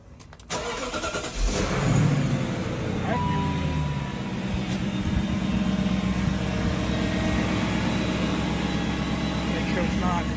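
A cold 2003 BMW 540i, unstarted for a day, cranks and fires at close range, then settles into a loud, steady idle that carries on to the end.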